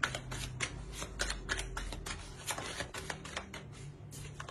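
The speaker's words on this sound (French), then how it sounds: "Je vais rajouter une carte sur le 9 d'épée." Tarot cards are shuffled and drawn, then one is laid down on a table, making quiet, close, rapid papery flicks and soft slaps.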